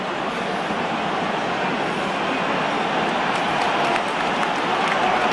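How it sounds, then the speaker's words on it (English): A stadium crowd at a New Zealand versus Ireland rugby international in 2013 buzzes with a dense, steady roar after a big scoring lead, a continuous wash of massed voices and noise with no break. "just listen to the crowd now buzzing"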